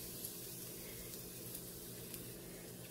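Garlic sizzling in hot oil in a wok, a steady dense crackling hiss with faint pops, continuous and close, with no talking.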